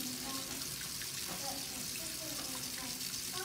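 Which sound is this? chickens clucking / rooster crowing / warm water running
warm water running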